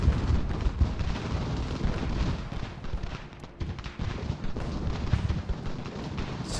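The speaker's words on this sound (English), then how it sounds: "My artillery's in position. What are we shooting with, by the way? 3-pounder Galloper guns." Artillery from 3-pounder Galloper guns in the strategy game Ultimate General: Revolution, a dense, rumbling battle barrage with repeated booms and crackling shots layered over one another, loud and continuous.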